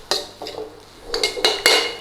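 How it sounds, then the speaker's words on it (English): Curry powder being stirred into pineapple shrimp fried rice in a pan, a utensil scraping and clinking against the metal in a few quick, uneven strokes, close and fairly loud. "Give that a quick stir through."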